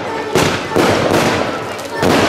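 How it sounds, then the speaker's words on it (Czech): Fireworks burst outdoors at a St. Nicholas evening celebration in Jesenice, giving loud, rapid, overlapping booms and crackles with voices faintly audible in the background. "Protože za námi už se rozpoutal ohňostroj."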